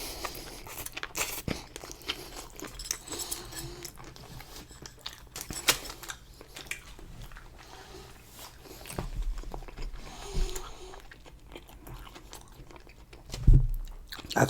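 Chewing while eating dim sum tofu at a mukbang feast: soft, wet mouth sounds repeat close to the mic at low volume, with a few sharper bites and a louder crunch near the end.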